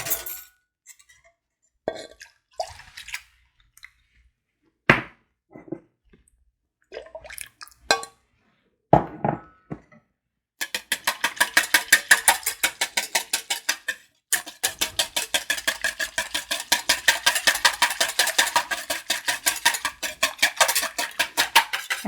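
Eggs being whisked for a Victorian custard pudding as cold cream is poured in, scattered clinks at first, then a fast, even rattle of a whisk against a bowl, fairly close and loud.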